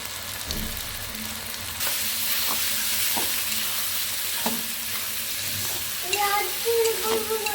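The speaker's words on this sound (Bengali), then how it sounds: "এবার মশলাটাকে ভালো করে কষিয়ে নেবো।" Masala with salt and turmeric sizzling and frying in a pan for chicken curry, a continuous close hiss with intermittent stirring scrapes and clinks, no talking.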